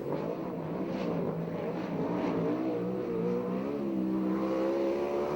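A USAC/CRA sprint car engine roars steadily through a qualifying lap at the So Cal Fair track in Perris, California, a continuous loud drone that rises and falls in pitch as the car circles.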